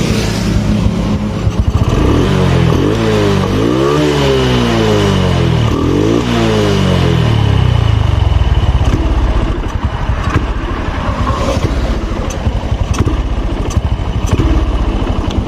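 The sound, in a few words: Honda Blade motorcycle engine revving at high RPM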